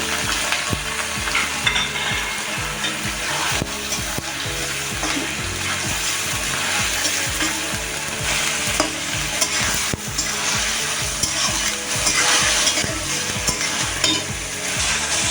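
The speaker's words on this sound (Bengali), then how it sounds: "খাসি মাংসটা ভালো করে নাড়াচাড়া করে নিতে হবে।" Goat mutton stirred and fried with browned onion, ginger and garlic paste for mutton ghugni, giving a loud, continuous sizzle with constant scraping and stirring strokes close up, no talk.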